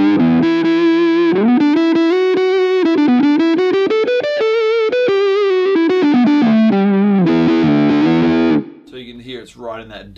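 Electric guitar played through an Axe-Fx II wah effect, a distorted, vocal-like melodic line with bending, sweeping tone, loud and continuous for most of the passage before cutting off into a brief scrappy tail.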